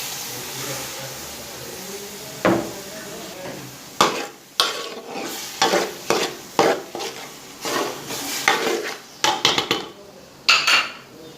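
A green paste goes into cooked chicken in a pan, bringing bursts of sizzling and repeated clattering strokes of a spoon against the metal, loud and close.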